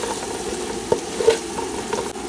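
Goan pork sausage, tomato and crumbled Maggi cubes being stirred in a pan for pulao: a soft, low sizzle under a few scattered scrapes and light knocks of the spoon, quiet and close, with no talking.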